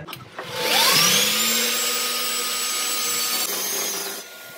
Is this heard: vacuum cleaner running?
yes